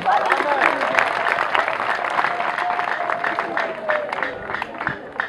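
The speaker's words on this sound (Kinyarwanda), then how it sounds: "Dukomere Imana amashyi menshi." An audience at a church gathering claps loudly, with a steady patter of applause and crowd noise. A voice carries over the clapping throughout.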